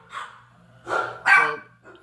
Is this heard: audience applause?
no